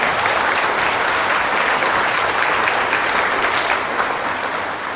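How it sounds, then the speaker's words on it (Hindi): Audience applause at a community quiz event at Milind Buddha Vihar, dense steady clapping filling the whole stretch at a loud, even level with no voices over it. "जोरदार तालियां इनके लिए"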